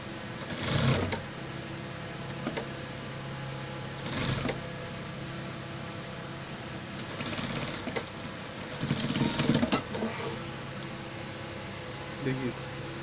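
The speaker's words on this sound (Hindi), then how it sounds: "तो सिलाई लगा के दिखा देते हैं।" Sewing machine stitching the seat seam of a pair of pants, running in short bursts with pauses between them, moderately loud, over a steady background hum.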